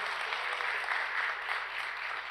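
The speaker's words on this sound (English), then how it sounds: "Another round of applause" An audience at an opening ceremony in Viet Nam claps, a steady wash of applause from many hands at moderate distance, even and continuous throughout the short stretch.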